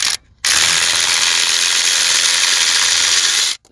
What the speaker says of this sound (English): These 2, I could use my ratchet impact here.